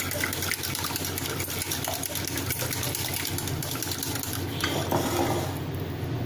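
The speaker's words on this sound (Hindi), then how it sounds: "इसको थोड़ा सा और हम फेंटेंगे।" Gram flour batter for gathiya sev is whisked briskly in a bowl, a steady scraping swish with rapid repeated strokes, close and continuous under low background hum.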